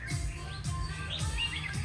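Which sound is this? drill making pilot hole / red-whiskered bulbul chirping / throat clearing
red-whiskered bulbul chirping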